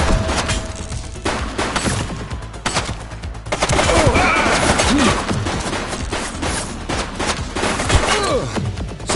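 Rapid, sustained gunfire as officers take down a suspect in the police video game The Precinct: dense bursts of shots crackle continuously across the whole stretch, loud and close, with brief lulls and voices mixed in.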